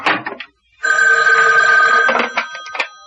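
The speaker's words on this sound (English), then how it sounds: "Excuse me, that's my phone." A telephone bell rings loud and close in a single sustained trill lasting over a second, with brief scattered sounds before and after it.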